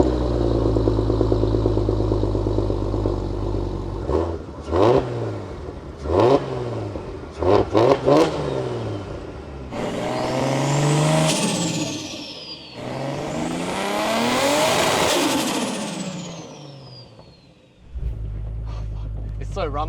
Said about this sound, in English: Dude, that 6-cylinder growl,